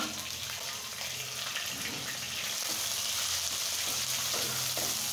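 Chopped green chilli, onion and a garlic clove fry in a pan with a steady, close, broadband sizzle that holds evenly for the whole stretch, with no talking over it.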